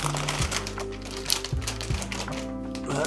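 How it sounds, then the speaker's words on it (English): A large plastic bag holding Mossy Oak Crocs Quick Trail shoes crinkles and rustles in close, continuous handling, with a few soft taps, while faint background tones sit underneath. "Excuse the bag noise."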